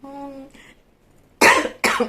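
After a brief hum from a voice, two loud, harsh coughs burst out close by, one right after the other.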